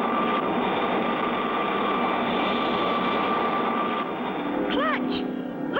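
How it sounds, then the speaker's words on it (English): Cartoon second and third stage rocket engines igniting: a loud, steady roaring rush fills the scene, with whistling rising tones near the end. "The second and the third stage rockets light up."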